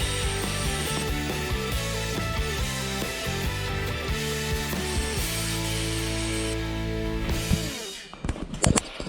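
A Corsa C headlight lens is polished with a 3M lens restoration kit, giving a continuous buzzing, rattling machine drone with busy mechanical texture that cuts off abruptly near the end, followed by a few knocks.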